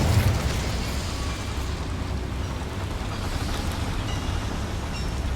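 An Incendio fire spell is cast near a mine entrance in the video game Hogwarts Legacy, giving a loud, sustained roaring rush of flame with a deep rumbling low end that stays steady for several seconds.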